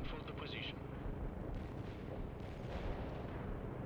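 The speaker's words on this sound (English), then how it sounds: "there's rockets that are coming from somewhere. But they always just land where you were" Rockets and artillery land in the World in Conflict strategy game, a dense, continuous rumble of blasts and booms that stays loud throughout, with a voice talking over it.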